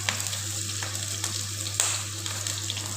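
Onion, garlic and green chilli sizzle steadily in hot oil in a pan, a close, continuous frying hiss with a few soft stirring knocks.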